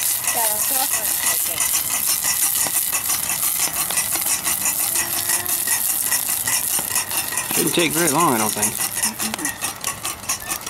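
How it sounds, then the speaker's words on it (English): Steady crackling sizzle of food frying in hot oil, with occasional utensil scrapes and clinks, under a person talking briefly. "If it's starting to sizzle. Get the oil all hot in there"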